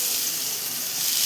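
Finely chopped onions fry in hot oil with garam masala for a beef thokku, producing a steady, bright sizzling hiss that holds evenly for the whole moment with no voice over it.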